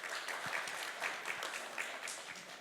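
Audience applause at a live panel discussion event, a steady dense patter of many hands clapping throughout, fairly close and full, with no talking over it.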